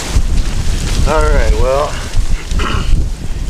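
Heavy wind buffets the microphone with low rumbling gusts throughout, while a person speaks a few words over the roar.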